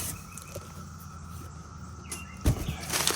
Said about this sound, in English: The cicadas are singing loud and clear. The 17-year cicada are everywhere.